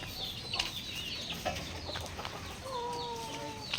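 Young roosters (stags) cluck at a Philippine poultry farm, a few short clucks and a brief drawn-out call over steady farmyard background noise, moderately close with no talk.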